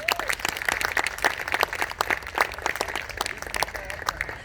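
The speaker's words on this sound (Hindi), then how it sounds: "मंजर सहबाई साहब, प्लीज़ इनके लिए तालियां हो जाएं।" Audience at a Pakistani film trailer launch applauding an actor, a dense burst of clapping with a few sharper claps and faint voices underneath.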